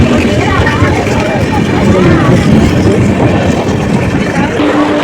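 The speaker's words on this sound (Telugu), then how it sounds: "వచ్చిన ట్రైన్ వెళ్ళిపోతుంది" A train pulls away from a station platform with a steady rumble and rail clatter filling the whole stretch, while a crowd's indistinct babble carries underneath.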